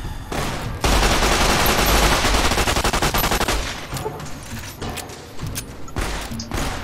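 Loud, rapid gunfire from a gun in a video game, a dense continuous volley that starts abruptly, thins into scattered shots with mechanical clatter, then returns in shorter bursts.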